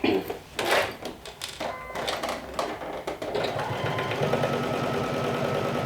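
A sewing machine understitching a garment lining, first a few rustling handling noises and clicks, then a steady rapid mechanical whir of stitching that runs on to the end, close and moderately loud.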